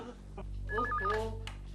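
A telephone is dialed with a quick run of electronic tone beeps, followed by a short ringing pattern, faint and thin over a low steady hum.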